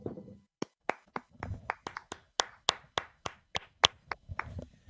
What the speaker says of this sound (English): let's give a golf clap